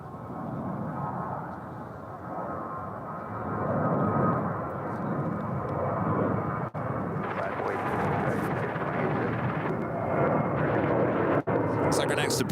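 UPS Boeing 767-300 jet, 26 years old, departing on runway 36 right at Dallas Fort Worth, a broad steady roar that swells and holds throughout while someone talks over it.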